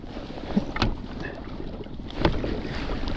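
An inflatable skiff powered by a Mercury 9.9 HP outboard motor on the water, a steady engine drone mixed with wind buffeting the microphone and two sharp splashes or knocks.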